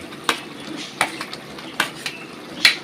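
A utensil scrapes and clinks against a pan at irregular intervals as boiled papaya is stirred into a tilapia fish curry, over a soft, steady sizzle.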